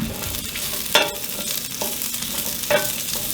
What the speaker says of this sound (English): I melted some coconut oil in the pan, and we are going to fry the potatoes, get them soft